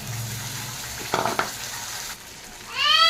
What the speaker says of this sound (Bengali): পেঁয়াজটা মোটামুটি ভাজা হয়ে গেছে